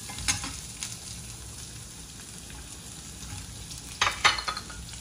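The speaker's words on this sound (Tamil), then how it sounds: "இப்போ அந்த மீடியம் சைஸ் வெங்காயம் கட் பண்ணி வச்சுருக்கிறத போட்டுட்டு வதக்கணும்." Chopped medium onion sautéing in a pan for peanut chutney gives a low, steady sizzle with a few sharp scraping stirs near the start and a louder clatter of stirring toward the end.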